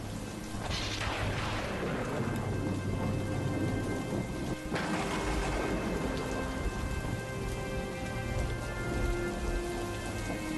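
Heavy, steady rain pours down close by, with rolls of thunder rumbling in near the start and again midway.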